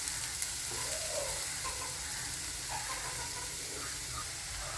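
Three small chopped onions frying in hot coconut oil, a steady crackling sizzle with soft hissing bubbles, close and continuous, alone without voices.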